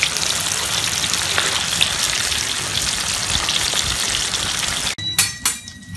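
Dense, steady crackling sizzle of shrimp deep frying in hot oil, loud and close, ending with a few clattering knocks.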